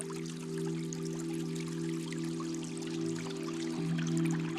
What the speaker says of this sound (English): the water is still pretty loud